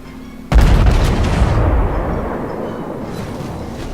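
A full naval broadside of AP rounds from a Kaiser battleship in World of Warships erupts as one loud, sudden blast that rolls on into a long rumbling decay, with no talking over it.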